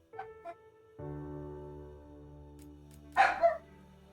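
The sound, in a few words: dogs barking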